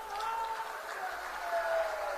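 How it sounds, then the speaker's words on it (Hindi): A crowd at a political rally in Madhupur applauds in a brief, fairly faint burst of clapping with a murmur of voices underneath, heard from some distance. "आप ताली तो बजाते हो"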